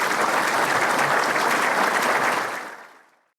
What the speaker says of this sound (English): How about a big round of applause for our speaker?